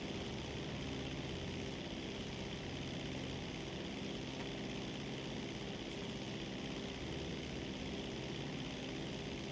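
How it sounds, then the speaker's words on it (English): A propeller airplane flies in GTA Online, a steady droning engine hum with a constant rushing tone, heard alone at low level throughout. "But since we're in a plane, we'll just fly there."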